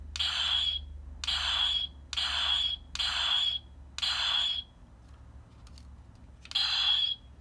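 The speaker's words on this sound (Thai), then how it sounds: "อันนี้คือเสียงฟันนะผม" Six bursts of a harsh electronic whooshing slash sound from a DX Gao Hustler Rod toy weapon, each about half a second, repeating in a quick irregular rhythm with a pause before the last.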